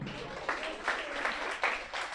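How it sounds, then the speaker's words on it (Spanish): Church congregation applauding a member's birthday during a Sunday morning service, a steady patter of moderate clapping with a few louder bursts, slightly distant and filling the room. "denle un aplauso"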